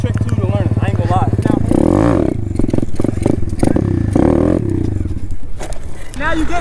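A pit bike's engine revs in first gear during wheelie practice on a dirt track. The engine runs close and loud throughout, rising and falling, while someone talks over it.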